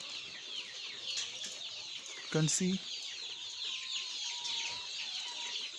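Chicks and young layer and broiler birds in a brooder give a steady, dense chorus of high chirping and soft clucks. Someone speaks briefly near the middle of the clip.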